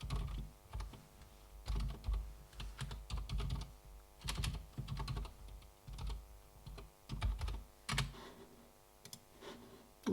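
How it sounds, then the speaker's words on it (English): Rapid typing on a computer keyboard during a live coding session, with bursts of crisp key clicks in uneven clusters and brief pauses, close and clear with no talking. "Shouldn't have been talking when I was typing."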